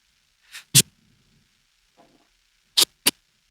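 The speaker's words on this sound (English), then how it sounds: "there are some wisps and sounds that we don't want in our vocals" Vocal sibilance, isolated by a de-esser plug-in, comes through as a few brief, airy hiss bursts: one pair near the start and two sharp ones near the end, separated by near silence.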